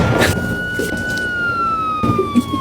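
A police car siren sounds close by as a single loud, steady tone that drifts slowly downward, with short bursts of clatter and bumps around it.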